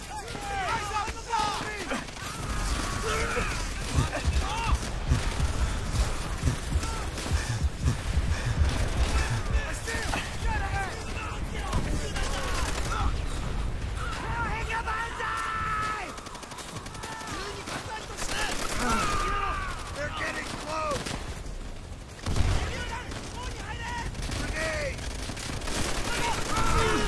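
Sustained gunfire and machine-gun bursts from a Call of Duty: World at War battle, with dense overlapping shots throughout, loud and continuous, with voices shouting over the combat.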